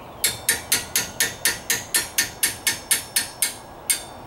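A hammer strikes a wrench over and over to loosen tight front brake caliper bolts on a Traverse, Acadia or Enclave, giving about fifteen sharp, evenly spaced metallic blows close by.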